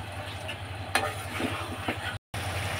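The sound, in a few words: chicken frying and being stirred in spice masala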